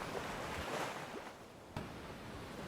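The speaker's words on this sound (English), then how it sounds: "Hopefully you can hear me with the roaring ocean behind me" Ocean waves roaring along the New South Wales coast, a dense, continuous wash of surf that swells and recedes, with a sudden gust or breaking crash near the end and no voices.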